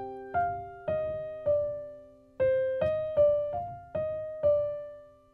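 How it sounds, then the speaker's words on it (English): Spider-Man: Far From Home manipulation and deception theme, a sly orchestral motif: eight plucked or struck note attacks in an uneven pulse, each ringing and sliding slightly in pitch over low rumble, moderately quiet and alone. "let's do, it's like the manipulation and deception theme."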